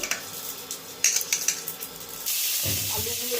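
Potatoes tipped into hot oil already seasoned with whole cumin, five-spice and dried chillies, a few utensil clicks giving way to a sudden loud, sustained sizzle of frying.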